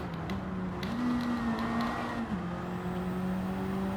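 A stock Honda Civic in Gran Turismo 7 holds a loud, steady engine drone, pitch stepping up and back down through gear changes, with no voices over it.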